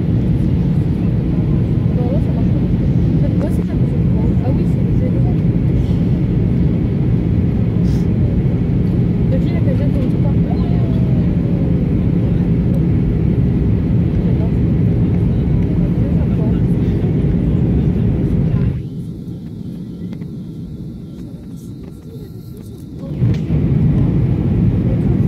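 Steady loud roar of an airliner cabin on landing approach into Bordeaux-Mérignac, a constant engine and airflow drone that briefly drops as a cabin announcement plays, then resumes.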